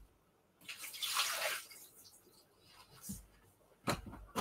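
Water pours and splashes out of a container of washed broccoli, a brief rushing burst followed by a few faint drips and clatters nearby.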